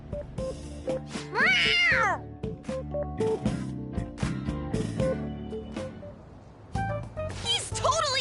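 A cartoonish cat meows in the Persona 5 Royal video game, a bright rising-and-falling mew standing out over background music, with voiced game dialogue around it.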